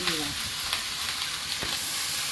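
Fish curry sautés in a pan while being stirred, a close steady sizzling hiss broken by a few brief scraping strokes.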